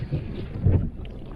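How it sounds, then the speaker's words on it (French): Strong wind buffets the microphone by the water on Basse-Terre, Guadeloupe, where canoes and kayaks are out. The roar stays loud and steady throughout and surges into a heavier gust midway, with no talking. "mais il y a franchement pas mal de vent là"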